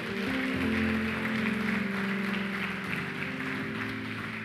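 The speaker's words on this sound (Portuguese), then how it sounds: "Pode aplaudir o Senhor." Congregation in a church applauding the Lord, a steady dense wash of clapping held at even loudness throughout, with a sustained musical tone running underneath.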